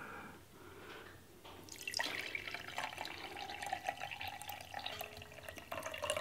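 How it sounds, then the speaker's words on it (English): Water pours into a mason jar self-watering herb planter in a kitchen, starting as soft trickles and then becoming a steady, close filling splash. "Fill our water to our line."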